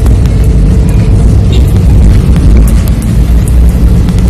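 A car sets off within a residential neighbourhood, heading out toward the highway; steady, loud low road and engine rumble fills the cabin, with faint bits of voice mixed in.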